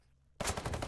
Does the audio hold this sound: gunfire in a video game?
yes